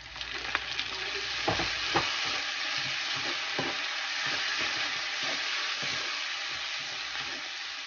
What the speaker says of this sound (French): Et je vais saisir les oignons avec l'ail.